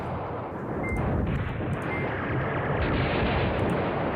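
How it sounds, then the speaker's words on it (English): Continuous artillery barrage in the wargame Command Ops 2, a dense, loud rolling mass of booms and crackling gunfire with no letup and no voices. "Let's just drop all the artillery on them."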